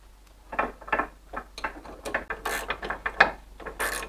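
A hand ratchet clicks in quick bursts of pawl ticks as bolts are tightened on a Golf mk3 VR6 Syncro, close and clear, with short pauses between strokes.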